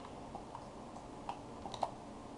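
Keys tapped on a computer keyboard for an Alt D shortcut, heard as a few faint, scattered clicks under a steady background hiss.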